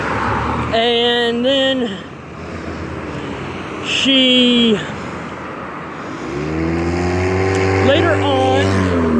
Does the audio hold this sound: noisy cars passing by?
yes